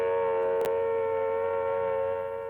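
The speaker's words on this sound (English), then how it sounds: "A wavering, undulating sound on the outdoor sirens lasting 3 to 5 minutes." A civil defense attack warning siren blares steadily with a wavering, undulating tone, loud and continuous with no voices over it.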